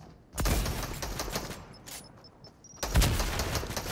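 Fortnite sniper and gun shots ring out in the game: two loud, sharp blasts about two and a half seconds apart, each with a ringing tail, plus faint quieter pops between them.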